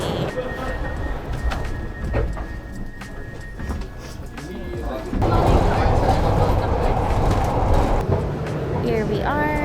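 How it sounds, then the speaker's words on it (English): A Glasgow subway train rumbles and rattles along the tracks, the noise growing louder partway through, with voices murmuring underneath. "We are taking the subway."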